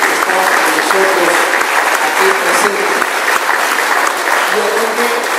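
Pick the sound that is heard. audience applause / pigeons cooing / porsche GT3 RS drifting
audience applause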